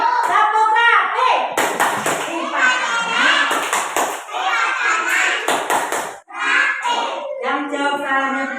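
A group of children in a classroom performs the rhythmic tepuk rapi clap, with short bursts of hand claps and thumps mixed into lively, close young voices chanting and talking throughout.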